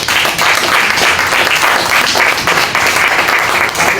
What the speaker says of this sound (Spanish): Vamos a dar un aplauso, Señor.